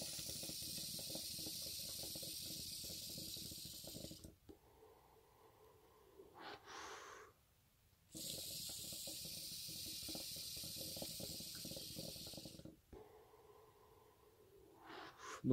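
Someone draws two or three long puffs on a budget hookah while the coals are being lit. Soft, close breathy hissing and gurgling comes in sustained draws of several seconds, separated by quieter pauses.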